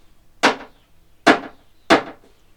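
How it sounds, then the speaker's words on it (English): Three sharp, separate hits on a homemade drum built from a milk bottle, each a bright, hollow smack that fades fast, evenly spaced about a second apart with near-silence between. "I've got my milk bottle drum."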